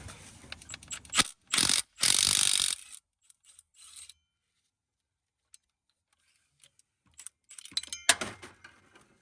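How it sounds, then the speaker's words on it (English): An impact wrench hammers at an 18 mm cam phaser bolt on a Chrysler 300 Hemi engine in two short, sharp bursts, followed by quiet metallic clinks and a final rattling burst near the end. "Just going to try to hold it and impact it off."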